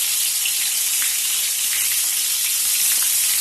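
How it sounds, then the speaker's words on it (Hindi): Stuffed eggplant fries in oil in a covered pan, a steady, loud, continuous sizzle with faint crackles throughout and no voices. "तो इनको हम धीरे धीरे इस तरीके से पलट देंगे ताकि दूसरे साइड से भी हमारे बैगन है वो अच्छे से फ्राई हो जाए।"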